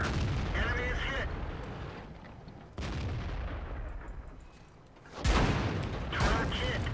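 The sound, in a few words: tank cannon fire in the video game World of Tanks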